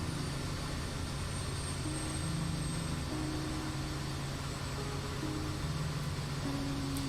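A bush plane cruising near 110 knots over the Bahamas gives a steady, loud engine and propeller drone with a constant low hum and no break.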